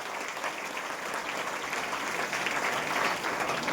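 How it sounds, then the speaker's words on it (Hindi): A seated audience at a direct-selling business presentation gives loud, sustained applause that builds slightly and holds steady, with no voices over it. "सभी लोग एक बार अपने लिए जोरदार ताली बजा लीजिए।"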